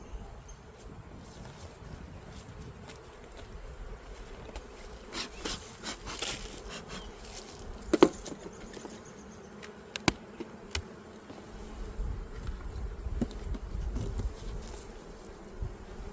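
Honeybees swarm and buzz steadily around an open, full-size hive colony during a spring split, a dense close hum with occasional louder passes of individual bees near the ear.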